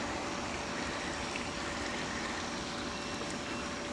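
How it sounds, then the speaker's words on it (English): A pool pump's thin, steady electronic warning tone sounds over its constant low mechanical hum while a pool is vacuumed through a sand filter, fairly faint, with no voices. "your pump's gonna beep at you depending on what kind of pump you have"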